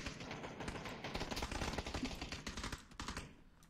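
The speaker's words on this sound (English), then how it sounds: "There's so much gunfire" Rapid bursts of automatic gunfire from the battle royale game PUBG, dense overlapping shots rattling loud and close for most of the stretch before thinning out near the end.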